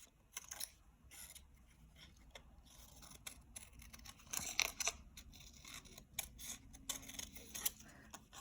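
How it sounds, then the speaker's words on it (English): Scissors cut out a paper shape for a snowman craft, with repeated quiet snips and crisp paper rustling up close, uneven and irregular with a few faster bursts, no voice. "Let's cut this also out."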